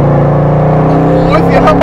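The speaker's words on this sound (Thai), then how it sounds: "โอ้โหเสียงเครื่องอย่างชัด" A Bentley Continental GTC engine holds a loud, deep, steady drone close by, climbing slightly toward the end as a voice speaks over it.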